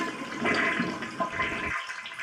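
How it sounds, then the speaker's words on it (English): A toilet flushes to drain its tank during a rebuild, a close whooshing rush of water that swirls and fades away after under two seconds. "flush the toilet"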